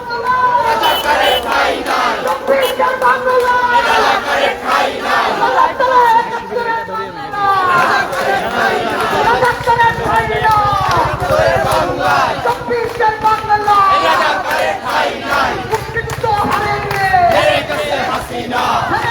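A protest march crowd at Dhaka University, starting from the Madhur Canteen grounds, chants slogans in loud rhythmic call-and-response waves, many voices close and continuous over street noise.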